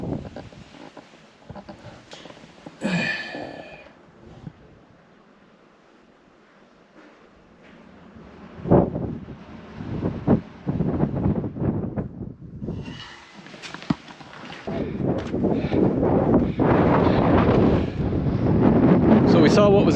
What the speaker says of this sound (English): the air rushes up as the water rushes in underground